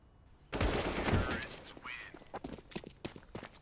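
Gunfire in a Counter-Strike match on the Cobblestone map: a sudden loud burst of shots ringing out, followed by scattered lighter clicks and footsteps under faint commentary.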